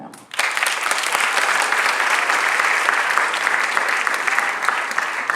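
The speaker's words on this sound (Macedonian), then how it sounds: "голем аплауз за неа" A live audience at a queer storytelling evening during Skopje Pride bursts into sustained, loud applause for a performer, starting abruptly after a brief quiet moment and holding evenly for five seconds.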